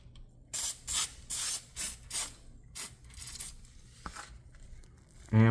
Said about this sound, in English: And we're just going to go around and spray everything.